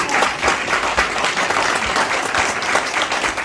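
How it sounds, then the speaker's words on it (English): An audience at a community event claps for a movement performer, a dense, steady round of applause at close range that holds throughout without talk. "y'all give him another round of applause"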